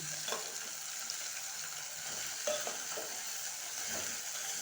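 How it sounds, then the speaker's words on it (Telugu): Okra being stirred in a frying pan, with a steady sizzle and occasional scraping of the spoon against the pan, close and continuous without talk. "ఇప్పుడు బెండకాయలు బెండకాయలు వేసి ఇలా కలిపేసుకోవాలి పెట్టుకోవాలి మొత్తం"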